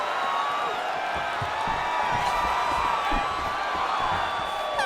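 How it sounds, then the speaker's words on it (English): A simulated arena crowd in a UFC video game fight in Abu Dhabi keeps up a steady, loud roar with whoops and cheers rising above the continuous wash of noise. "The crowd's going crazy because they appreciate high-level mixed martial arts"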